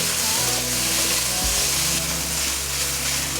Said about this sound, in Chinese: 继续把素肉条和杏鲍菇炒香